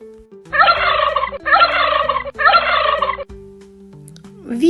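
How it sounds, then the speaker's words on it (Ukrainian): Three loud turkey gobbles in a row, each a rapid warbling burst about a second long, with short pauses between them. "Вірна відповідь це індик."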